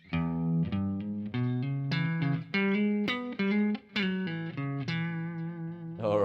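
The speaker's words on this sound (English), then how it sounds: "just to play that lick a little bit slower for you guys, it sounds like this, nice and clean." A clean electric guitar plays a country-style major pentatonic blues lick slowly, a string of distinct plucked notes and short slides at moderate volume, close and alone without talk.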